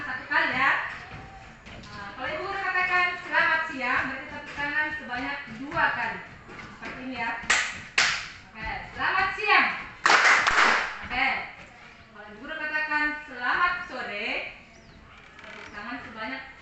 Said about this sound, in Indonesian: tepuk tangan sebanyak 1 kali ya